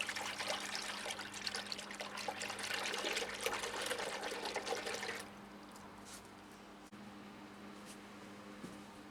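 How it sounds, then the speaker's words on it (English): Bleach solution, about half a bottle mixed into water for treating orchid bugs, stirred in a container until froth forms; a steady close swishing and trickling of liquid for about five seconds, then a quieter, calmer water sound. "we'll just stir it up so it shows a nice froth on top"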